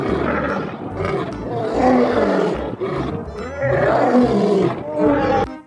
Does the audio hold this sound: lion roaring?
yes